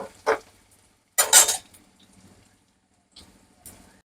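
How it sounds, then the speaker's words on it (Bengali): Chole ingredients being fried in a pan, heard as a few scattered metallic scrapes and clanks of a spoon stirring against the pan, with quiet pauses between them and no talking. "আমি এখন ভালো করে ভাজিয়ে নেব যাতে এটার সেন্টটা খুব ভালোভাবে চলে আসে"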